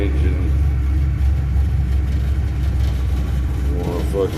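A 355ci V8 engine in a 1972 four-bolt 550+ horsepower build idles steadily while warming up, a loud continuous low rumble close by with slight rises in revs near the end.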